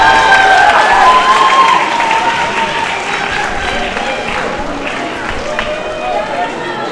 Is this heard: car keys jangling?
no